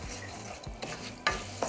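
Rice frying in hot oil in a pan for Mexican rice crackles with a soft continuous sizzle, broken by a few scraping stirs of a spoon at close range.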